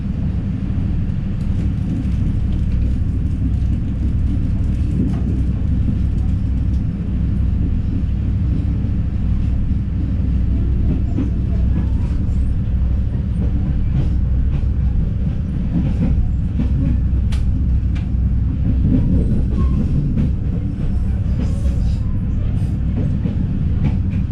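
Airlangga passenger train running from Pasar Senen to Tegal, heard from inside as a steady loud low rumble with faint rail clatter throughout, no voices.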